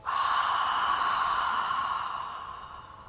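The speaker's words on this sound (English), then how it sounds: "Hold it in and exhale." A deep, steady exhale during a meditation breathing exercise, one long close breath out that slowly fades over about three seconds, heard alone.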